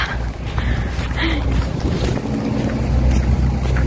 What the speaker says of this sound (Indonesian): ini anginnya cuy, like aku gak expect bakal sekencang ini anginnya